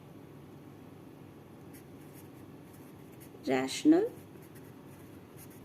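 A pen or marker writing on a board or paper during a class 9 maths lesson, heard as a faint, steady scratching hiss throughout. A voice briefly speaks near the end.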